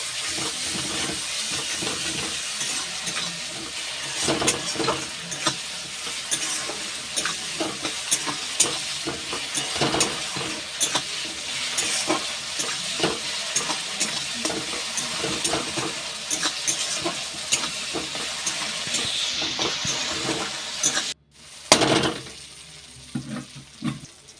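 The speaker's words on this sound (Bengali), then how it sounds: "আদা রসুন বাটা দিয়ে একসাথে সব ভাজা করে নেবো" Continuous loud sizzling of onion, tomato and ginger-garlic paste frying together in a pan, with scraping from occasional stirring and no talking.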